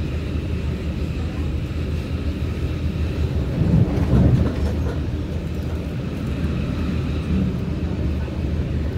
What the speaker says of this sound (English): that's an Airport Express A train